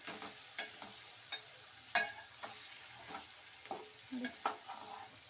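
Finely chopped beans fried with a roasted spice powder are stirred in a pan, a low steady sizzle broken by soft spatula taps and scrapes every half second or so, close and quiet, no voices.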